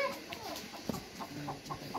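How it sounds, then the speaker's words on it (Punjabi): Big village roosters and hens clucking nearby, a run of short soft clucks and calls spaced through a quiet farmyard with faint voices around. "ਬੜੇ ਬੜੇ ਮੁਰਗੇ"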